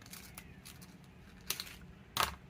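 Snips cutting craft material for a winter diorama shadowbox, with faint handling noise and two distinct crisp cuts, the second louder and closer.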